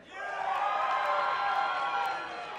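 An esports event crowd cheers and whoops together in a large arena, a sustained roar that swells and holds for a couple of seconds before easing slightly, with no clear talking over it.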